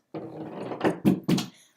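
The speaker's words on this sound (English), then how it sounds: "The dog keeps knocking down my cane." A dog growls low and close in a rumbling run, breaking into a few short, rough bursts that sound like snarls or whimpers, with no talking.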